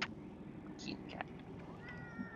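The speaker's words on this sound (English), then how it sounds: "Cute cat." A cat meows briefly over steady background game music and sound, the cries mid-level and partly blended with the surrounding audio.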